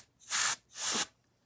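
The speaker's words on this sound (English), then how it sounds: "you don't want to lay it on the ground like this and then spray with the bottle down" A can of compressed air held upside down lets out two short, sharp bursts of hissing spray, each about a quarter second long with a brief silent gap between, close and fairly loud.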